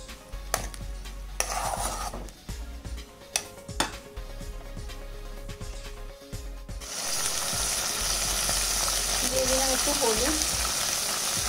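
Prawns salted and frying in hot oil, a steady sizzle that swells louder and denser partway through, with occasional clinks of a utensil against the pan.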